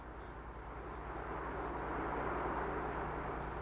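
A Panavia Tornado jet flying low-level, heard as a steady, dense roar of engine noise that swells slightly and holds, with no voices.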